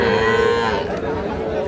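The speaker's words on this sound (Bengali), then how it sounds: "আমরা যে জায়গায় সবচেয়ে ছোট ছোট ষাঁড় বাছুর গরু ক্রয় বিক্রয়, আমরা কিন্তু সে জায়গায় রয়েছি" Young bulls and calves at a crowded cattle market, a loud sustained moo up close over a steady din of surrounding market noise.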